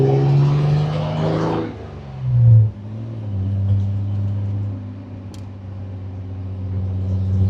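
A 1964 Austin Healey 3000 MK2 driving at low speed, a deep, steady engine drone with a brief rise in revs early on, then settling into a smooth, even cruise.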